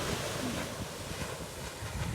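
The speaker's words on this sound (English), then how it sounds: "Waves." Powerful surf from a distant storm breaking on the beach at Wellfleet, a steady, moderately faint roar of washing water with soft gusts of wind noise and no distinct individual crashes.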